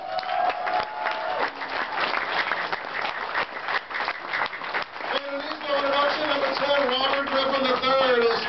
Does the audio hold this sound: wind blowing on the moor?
no